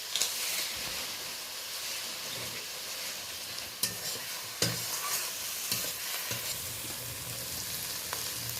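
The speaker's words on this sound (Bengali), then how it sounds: "পেঁয়াজ আর টমেটোটা ভালো করে নেড়ে নিচ্ছি।" Onion and tomato stirred in a hot oily pan while cooking a spiced pond-fish curry, a steady close sizzle and fry with occasional scraping clinks of a spatula against the pan.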